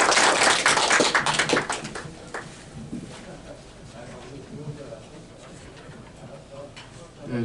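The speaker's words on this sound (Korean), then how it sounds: "큰 박수로 맞아주시기 바랍니다." An audience at a morning briefing claps to welcome a speaker; a burst of applause rings out loudly at first, then thins into scattered claps and fades under a quieter room.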